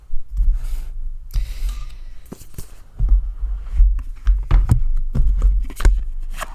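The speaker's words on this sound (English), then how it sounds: "Sorry if I'm tapping the mic and thumping on the table." Several sharp thumps and taps on a microphone and tabletop during an oracle card reading, arriving irregularly in clusters with dull low knocks, fairly close and with no voice over them.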